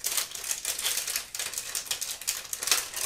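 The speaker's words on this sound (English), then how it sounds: "Sorry for the crinkling." A glassine bag holding wood veneer confetti crinkles close up in quick, irregular bursts of crisp rustling, continuous for a few seconds with no talk.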